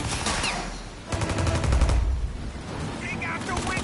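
Rapid bursts of video game gunfire in Mafia Definitive Edition ring out in loud clusters with dense low-end thumps, sitting under shouting voices.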